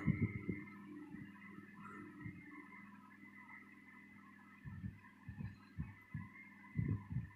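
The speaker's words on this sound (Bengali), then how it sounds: "এখানেও আমি ডবল সেলাই দিয়ে নিচ্ছি" A sewing machine runs a double line of stitching along a fabric sleeve seam for a maxi dress, giving a low steady hum broken by soft, irregular bursts of mechanical thumping, with no talking.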